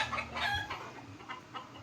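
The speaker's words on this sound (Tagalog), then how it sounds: "Manok tagawas." Chickens cluck outdoors in short, close bursts, loudest early on and then a few quieter clucks, with no talking.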